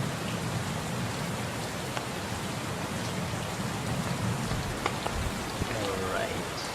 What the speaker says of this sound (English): Okay, now it started raining.